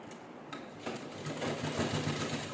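A sewing machine stitches a fabric laptop cover in a fast, continuous mechanical whir that starts softly and steadies into a loud, even buzz, heard alone without speech.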